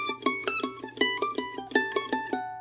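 Mandolin playing an even run of picked arpeggios from an advanced Whiskey Before Breakfast solo, bright plucked notes in a steady eighth-note rhythm, close and clear with no talking.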